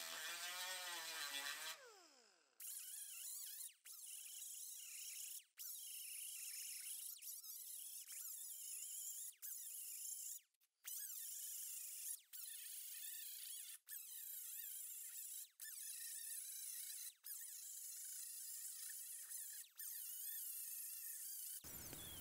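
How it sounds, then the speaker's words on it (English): An angle grinder grinds off spot welds inside the wheel well of a GMC Yukon, a loud high-pitched metallic whine in repeated long passes broken by short pauses as the tool lifts off the metal. "Now we're going to grind off the spot welds inside the wheel well,"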